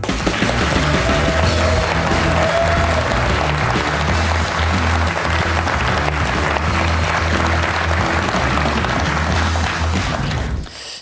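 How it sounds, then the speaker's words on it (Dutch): Loud, sustained applause from a large television studio audience, steady clapping and some cheering for about ten seconds before it cuts off abruptly. "Ja, wat een applaus."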